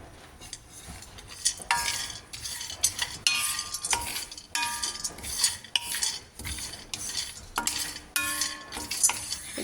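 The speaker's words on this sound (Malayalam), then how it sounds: "പീനട്ടിട്ട് റോസ്റ്റ് ചെയ്യണം." Peanuts roasting in a pan over low heat, stirred steadily so they scrape and clatter against the metal in repeated bursts. A faint sizzle runs underneath, the stirring is close and fairly loud, and no one speaks.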